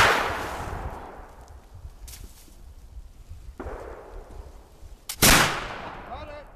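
A flintlock muzzleloader fires outdoors, its sharp, loud blast ringing out and decaying, with a fainter, earlier report and a quieter, more distant shot also present.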